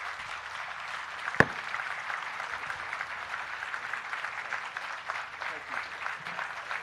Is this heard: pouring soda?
no